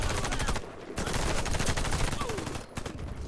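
Sustained automatic assault rifle fire in the shooter game Warface, dense continuous bursts with brief pauses, loud and close, with a voice faintly in the mix.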